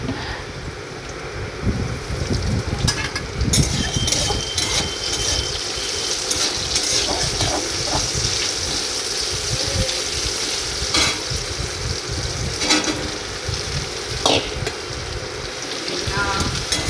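Bitter gourd and eggplant frying in a pan, a continuous crackling sizzle punctuated by sharp spatula scrapes and clicks, with a voice talking over it at times.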